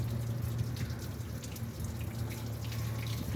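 Dirty water drains from an opened car radiator in a steady continuous trickle and splash, with a low hum underneath, close and moderately loud, no talking.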